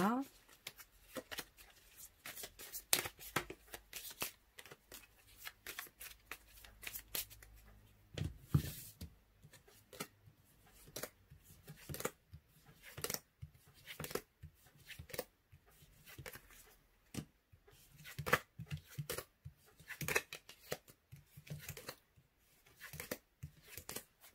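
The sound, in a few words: tarot cards being handled for a reading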